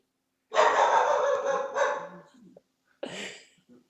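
A dog lets out one long, loud, drawn-out bark or howl close by, followed by a second shorter yelp after a brief pause.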